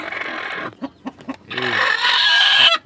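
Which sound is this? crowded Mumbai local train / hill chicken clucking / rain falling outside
hill chicken clucking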